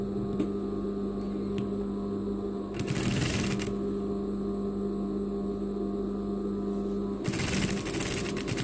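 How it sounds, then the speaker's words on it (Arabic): A sewing machine stitches a seam on a women's bathrobe, a steady mechanical hum with a rapid needle chatter that runs in two louder bursts between quieter whirring, close and alone without speech. "نقلبها على هاد الشكل وندوز ليها خياطة"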